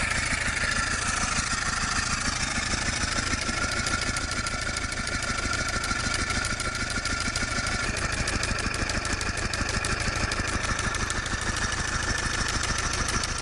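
An antique steam car from between 1908 and 1948, whose vertical fire-tube boiler drives double-acting pistons geared directly to the rear axle, runs with a rapid, even chuffing pulse under a steady broadband hiss, loud and close.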